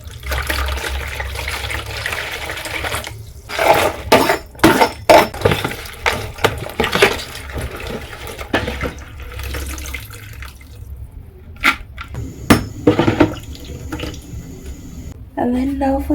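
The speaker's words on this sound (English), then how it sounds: "make sure you rinse your basin each and every single time before you clean the fish again" Omena fish rinsed by hand in a basin of water: repeated splashing, sloshing and clattering bursts with trickling water in between, fairly close and loud.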